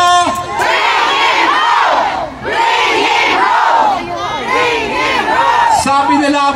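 A large Filipino crowd at a rally in The Hague, Netherlands shouts a chant in loud, sustained bursts, three long waves of massed voices separated by brief pauses.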